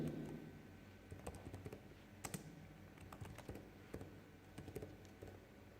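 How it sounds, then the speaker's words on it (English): Computer keyboard keys pressed one at a time in an irregular rhythm while entering schedule data in project-planning software, close and fairly quiet, with no talking. "So I am going to press insert button from my keyboard."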